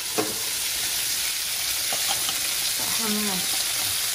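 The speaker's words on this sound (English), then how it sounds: "I'm going to put the onions in here and the garlic." Onions and garlic sizzling in a hot pan, a steady bright hiss with occasional pops and a brief scrape of stirring, close and continuous.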